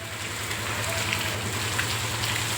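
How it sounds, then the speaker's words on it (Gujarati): Heavy rain pours down all day in a village, a dense, even hiss that fills the whole stretch without a break, with a low steady hum beneath. "આખો દિવસ વરસાદ ચાલુ છે"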